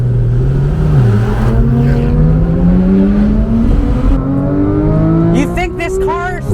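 A 2015 Porsche 911 GT3 of the 991.1 generation revs hard while accelerating on an open road, its engine note climbing steadily and loudly in pitch for several seconds, with a brief shift dip early on and a voice joining near the end.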